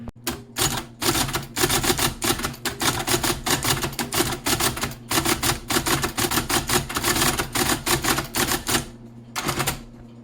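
IBM Selectric II electric typewriter converted into a Linux teletype, typing in rapid bursts of loud mechanical clacks with short gaps and a steady motor hum underneath, ending with a brief pause and a few final strikes.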